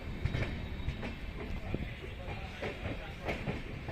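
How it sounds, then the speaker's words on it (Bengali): A passenger train rolls past steadily, with rhythmic clickety-clack of wheels over rail joints and a broad rumble, heard from aboard another train travelling between Kolkata and Guwahati. "সে আই গেস কোনো প্যাসেঞ্জার ট্রেন যাচ্ছে"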